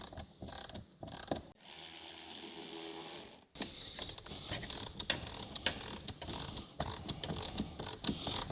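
Ratchet driver clicking as screws are tightened into a plastic Audi B9 S4 3.0L V6 TFSI intake kit part from 034 Motorsport, close rapid clicking in short bursts with pauses and a brief hum between.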